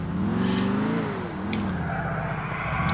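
Car engine in GTA IV revving and accelerating, a loud continuous drone rising and dipping in pitch, with no talk over it.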